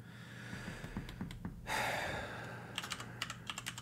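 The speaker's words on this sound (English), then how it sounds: "Keyboard ASMR is a whole genre." Fingers typing on a computer keyboard, close and crisp, with a flurry of rapid keystrokes, a pause with a breathy exhale, then more scattered clicking taps.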